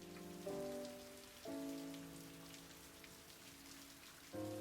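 Steady rain patters on surfaces during an anime episode of One Piece. The faint, even hiss of falling drops runs throughout beneath soft sustained musical tones.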